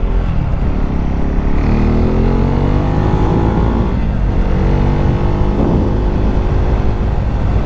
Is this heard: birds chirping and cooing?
no